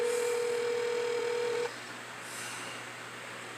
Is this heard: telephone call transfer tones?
yes